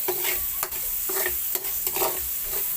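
Tomatoes sauté in a pan, sizzling steadily while a spatula scrapes and stirs in repeated strokes, with no talking.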